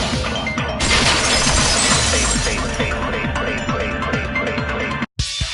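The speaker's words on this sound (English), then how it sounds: "First of all, the sound the girls heard wasn't the window breaking. If it wasn't the window, then what broke to make that sound? A vase." A vase shatters in an anime video game, a loud crash of breaking ceramic and glass that spreads into a long scattering of tinkling shards before cutting off abruptly.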